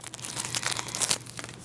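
A sealed beauty subscription package torn open by hand, close crinkly plastic rustling and crackling in a quick continuous burst of about two seconds.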